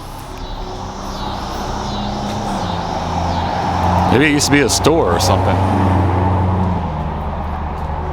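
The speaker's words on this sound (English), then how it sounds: "I do apologize for the traffic I'm right up against here." Road traffic on a street off Main Street in Broussard, Louisiana, with cars rumbling and passing close by in a steady flow that swells mid-clip, under someone talking.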